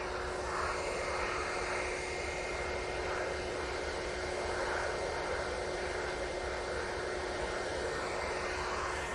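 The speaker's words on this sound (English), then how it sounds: "British Airways, A320 CEO, going off to London Heathrow" At Manchester Airport, a British Airways A320ceo takes off for London Heathrow, giving a steady, unbroken engine roar with a constant tonal hum running through it, heard alone from a moderate distance.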